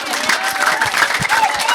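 A church congregation claps through a service, with dense, steady applause filling the whole short stretch, with faint crowd noise mixed in.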